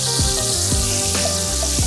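Veal saltimbocca frying in caramelized butter in a pan gives a steady, close sizzle, with a few soft spoon or basting knocks across two seconds.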